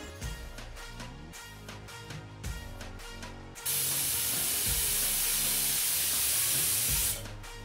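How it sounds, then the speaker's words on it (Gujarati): A pressure cooker on medium gas, steaming khandvi batter in a pan inside, lets out a loud, steady hiss of escaping steam that rises abruptly and holds for several seconds, following softer rhythmic clattering and sputtering. "કૂકરને બંધ કરીને મીડિયમ ગેસ ઉપર 6 વિસલ થવા દઈશું."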